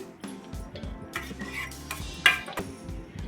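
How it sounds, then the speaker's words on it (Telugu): Gram flour being stirred into laddu batter in a pan, a spoon scraping and clinking against the metal in an uneven rhythm with several sharp taps, close and moderately loud. "ఇప్పుడు దీన్ని మొత్తం కలిసిపోయేలాగా బాగా మిక్స్ అయ్యేలాగా కలిపేసుకుందామండి"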